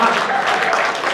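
Audience at a Hindi comic poetry gathering (hasya kavi sammelan) clapping steadily and fairly loudly, a continuous patter of applause.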